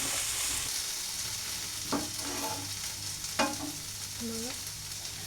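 Okra sautés in oil in a pan with a constant crackling sizzle, broken by a few sharp scrapes and knocks of a utensil being stirred through it.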